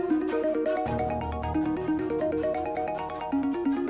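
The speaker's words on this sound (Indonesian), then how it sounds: "Aku coba telepon Asma aja deh" A mobile phone ringtone plays a repeating electronic melody with steady beeping pulses, moderately loud and continuous, with no talking.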